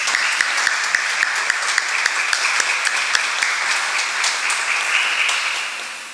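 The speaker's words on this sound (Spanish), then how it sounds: "Over Francisco Salcedo Arroyo, a quienes les damos un aplauso." A church congregation at a Mass applauds a couple's wedding anniversary with steady, fairly loud clapping from many people, where a few sharper individual claps stand out before it tapers off.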